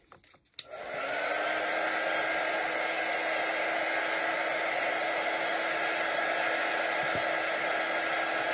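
A hair dryer blows steadily on a chalk-paint craft project after a brief click at switch-on, running loud and unbroken close to the microphone with a faint tap partway through.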